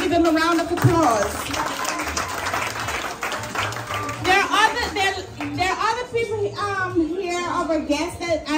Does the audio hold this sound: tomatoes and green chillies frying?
no